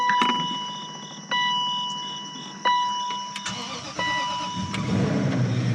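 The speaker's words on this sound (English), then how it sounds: "So it definitely starts up." A 2003 Range Rover with a battery drain problem clicks and chimes as the key comes near, then the engine cranks and fires up into a low rumble near the end, heard close up.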